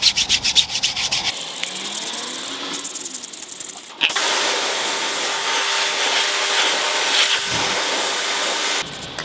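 Steady abrasive scrubbing of dirty car tyres with a brush during a winter wash, a continuous rough rubbing texture with brief pauses and a louder, denser stretch midway, close up and alone.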